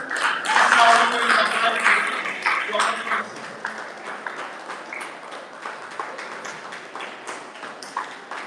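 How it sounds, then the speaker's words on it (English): A school audience at a science day celebration applauds to welcome the head of school, a dense wash of clapping that swells loud at first, then thins and tapers while voices murmur underneath. "with a resounding round of applause, let's welcome the head of school of this place, Madam Benny"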